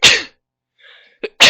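Two sharp human sneezes, one at the start and one at the end, separated by a quiet gap with a faint brief vocal sound between them, indoors at a tabletop game session.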